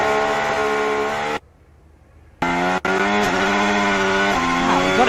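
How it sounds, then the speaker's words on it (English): Formula 1 car driven by Franco Colapinto at Bahrain pre-season testing, engine revving hard and loud with a sustained harmonic howl, a sudden cut to near silence for about a second, then the revs roaring back. "Listen to these revs."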